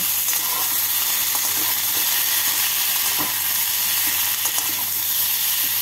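Tomato is stirred into potatoes and eggplant frying in a pan, making a loud, continuous sizzle and hiss with occasional soft scraping from the stirring.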